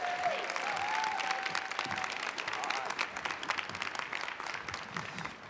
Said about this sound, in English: How about another round of applause here for Jane?